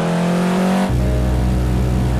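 A first-generation Honda NSX engine revs in the driving game Driving School Classic. A loud, high, steady rev suddenly drops into a lower, thick drone that holds to the end, with no talking.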